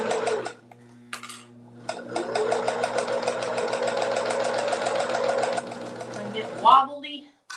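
A domestic sewing machine runs in a steady fast whir for several seconds while backstitching, stopping briefly and starting again, with a few quiet clicks and a voice heard before and after the stitching.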